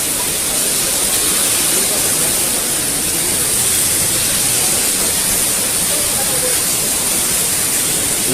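Steady, loud roar of the San Quirguato river overflowing its banks after torrential overnight rain, a dense unbroken wash of rushing water with no pauses.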